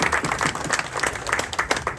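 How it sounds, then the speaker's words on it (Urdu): Audience applause at an Independence Day ceremony held by a Pakistani community forum in Norway, a close crowd clapping in a lively, continuous patter at full volume. "بھرپور تالیوں کی گونجیں"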